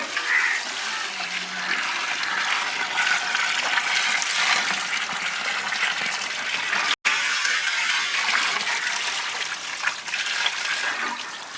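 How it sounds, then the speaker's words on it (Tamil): Water pours steadily into a cooking pot of basmati rice and mutton for a dum biryani, a loud, continuous gush that breaks off for an instant midway and then resumes. "நம்ம மட்டன் வேகணுன்றதுனால நம்ம கூட வந்து ஒரு 1/2 குண்டா தண்ணி வந்து ஆட் பண்ணிக்கலாம்."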